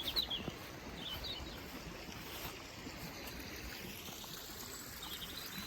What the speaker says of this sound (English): Oh, there you go, there's a stream just here right next to me.